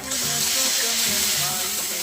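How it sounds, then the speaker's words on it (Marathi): Green chillies sizzle in hot oil with crackling mustard seeds, making a steady, close frying hiss for the whole stretch. "मोहरी तडतडली की हिरवी मिरची"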